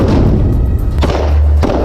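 Heavy booms from Israeli tank fire and gunfire during combat against a Hamas position, two sharp thudding blasts a second or so apart over a constant loud rumble.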